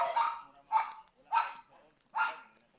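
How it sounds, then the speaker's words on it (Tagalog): Four sharp dog barks outdoors on a walk toward a mountain in Iligan, Philippines, in a loose, evenly spaced series, fairly close, with quiet gaps between them. "May mga aso rin pala."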